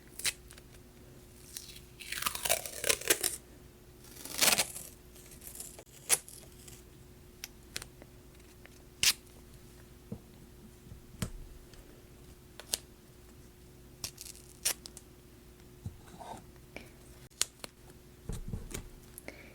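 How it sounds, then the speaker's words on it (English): Tape is pulled off a roll in short, sharp rips and crackles, close and quiet, with scattered small handling clicks in between during a soft-spoken craft session. "Let's go ahead and tape this off"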